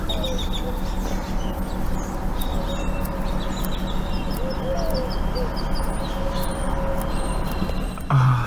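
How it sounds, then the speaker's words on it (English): Birds chirp and call in a sunny, tropical-feeling outdoor spot with palm trees, scattered high chirps over a steady low background hum, moderately near. "Listen to those birds."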